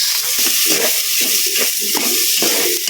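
Onions tipped into a pan already sautéing garlic and ginger for Filipino papaitan soup, giving a steady close sizzle with stirring scrapes and no voices.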